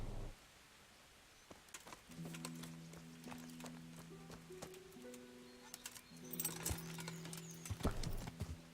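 Horse hooves clip-clopping in the medieval game Kingdom Come: Deliverance, a steady walking rhythm of hoof falls growing louder and busier toward the end, alongside faint tonal game sounds.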